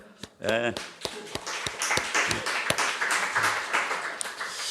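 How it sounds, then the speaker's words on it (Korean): Church congregation at a Sunday worship service clapping together, a dense burst of hand claps filling the room after a brief voice at the start, steady and close throughout. "박수 한번 합시다."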